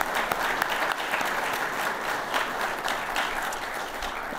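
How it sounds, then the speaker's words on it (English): A conference audience breaks into steady applause, many hands clapping at once at an even level throughout. "I'd like to ask us all to have a round of applause for those that help us do something."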